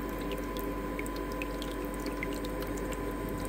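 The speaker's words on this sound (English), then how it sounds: "Now the excess water, think of the timer is a little bit longer, then it runs out through here." Excess water from an ice maker running out through a drain, a steady close trickle with scattered drips over the low hum of the machine, no voices.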